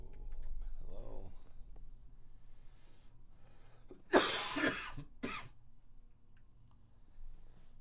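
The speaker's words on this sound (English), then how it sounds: "I am still coughing a little bit" Two sharp, close coughs from a person recovering from a cold, the first stronger and the second shorter about a second later, over a quiet room.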